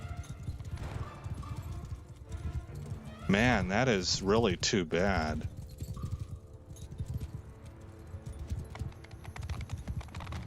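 Hooves clip-clop in a Bannerlord battle amid game noise, with someone talking over it and a loud horse whinny in the middle.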